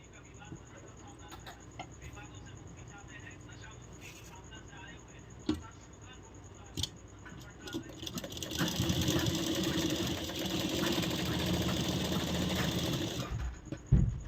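A sewing machine stitching a blouse, running steadily for several seconds in a loud, continuous whir after quieter handling noises and clicks, with a faint steady tone in the background.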